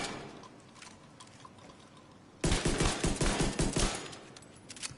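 Rapid pistol gunshots from The Division 2 video game, a quick burst of loud cracking shots fired in close succession after a quieter stretch of game ambience.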